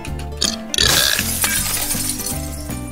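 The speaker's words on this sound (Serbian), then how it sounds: "Kako sam podrignuo, tako je puklo staklo." Glass shatters loudly in a video game, a sharp crash followed by tinkling shards, with game music playing underneath.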